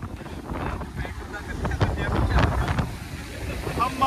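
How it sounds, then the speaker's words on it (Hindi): Strong wind buffets the microphone at Rasta Naura Beach in Saudi Arabia while waves surge and wash nearby, a loud continuous roar with a voice speaking over it. "एक तो हवा का प्रेशर बहुत है, लहरें"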